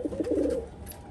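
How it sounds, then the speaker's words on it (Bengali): Male pigeons kept as pets coo in a low, throaty rolling murmur, close and steady for a moment with no talk over it. "আর এই হলো আমার নর কবুতরগুলা।"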